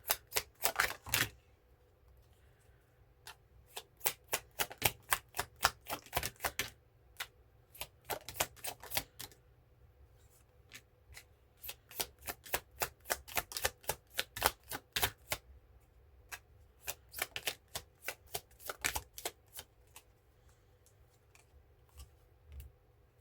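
A focus deck of tarot cards is shuffled in quick bursts of crisp, snapping card clicks. The bursts come in irregular runs separated by short pauses in a quiet room, with no talking.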